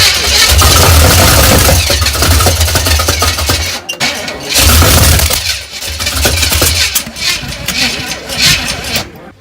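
A 1968 El Camino, under rebuild with fresh wiring, cranks over in loud repeated bursts of starter and engine noise that stop and then come again, close by.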